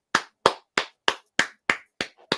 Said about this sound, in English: Let's give her a few claps.